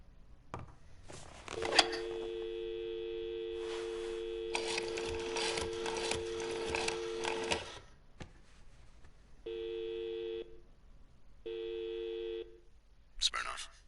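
In the Blacksad video game, a telephone plays a dial tone and a run of dialing beeps, with short bursts of tone separated by pauses, quiet and close, with a voice speaking briefly.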